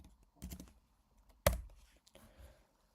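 A few sharp computer keyboard keystrokes, loose and irregular, with one loud clack standing out, close and isolated against a quiet room.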